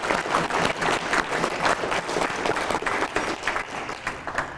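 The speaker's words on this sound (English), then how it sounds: "let's give Heartland a round of applause" A crowd at a mayor's State of the City address applauds steadily and loudly throughout, a thick wash of clapping with no pauses.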